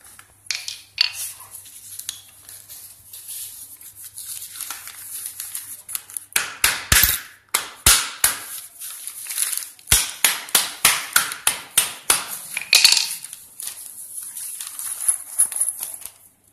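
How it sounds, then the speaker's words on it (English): Repeated sharp hammer strikes crunching and shattering a glass slab, irregular knocks coming in quick clusters, close and loud, with scattered brittle cracks. "And we are having a hammer over here. So now, let's see what happens. First, I'll be breaking this."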